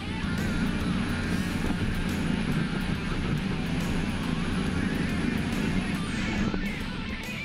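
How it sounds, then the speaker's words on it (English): A turbocharged truck at a dirt-track pulling event, its engine roaring as the RPMs climb, a loud, steady, rumbling drone with crowd and outdoor noise for several seconds. "You can hear him bring the RPMs up to get those turbochargers working"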